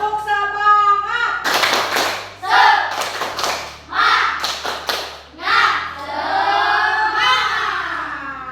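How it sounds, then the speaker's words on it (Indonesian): A primary school class performs a rhythmic spirit clap in a classroom, children chanting in unison between bursts of sharp, patterned hand claps, loud and close, with a teacher's voice at the start. "Ayo, 1, 2, 3, tepuk semangat."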